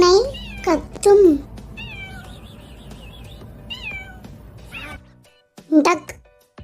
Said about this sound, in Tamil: பூனை கத்தும்.